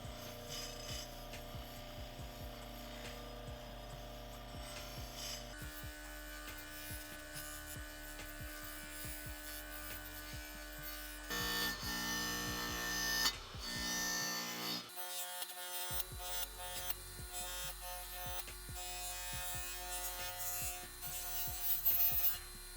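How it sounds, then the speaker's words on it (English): A rotary tool spinning a Scotch-Brite abrasive wheel polishes a dull dirt bike aluminum crankcase, giving a steady close whirring grind that shifts in pitch and texture as pressure and contact change, with no talking. "this Scotch-Brite wheel is really working some magic on the crankcase"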